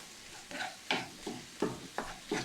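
Ground beef browning in a pan, stirred gently so that short bursts of scraping and sizzling come in an uneven rhythm, close and moderately loud.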